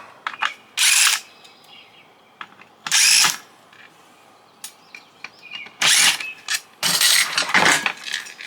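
A power drill backs screws out of a scrap induction stove top, loud, whirring bursts repeating four or five times in close succession, with clattering handling noises in between.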